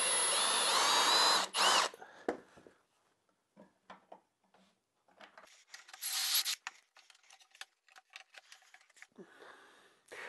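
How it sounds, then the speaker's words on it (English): A power drill bores a series of holes across a wooden edge-jointing sled jig, with a long loud whine at the start, shorter bursts in the middle and another burst near the end, separated by quiet handling noises. "Now I'm just going to drill a series of holes across here."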